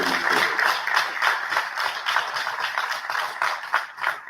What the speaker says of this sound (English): request we give another round of applause to Marshal Jula and General Tadesse